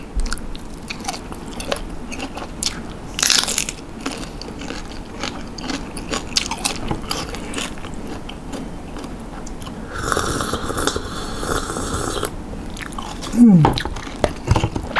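Crunchy boiled tako octopus tentacle is chewed close up in repeated crunching, squeaky bites, with brief voices talking in between.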